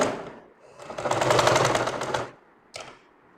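A sewing machine stitches a pocket onto a shirt in one fast mechanical chattering run of about a second and a half, followed by quiet and a single short clack at the end.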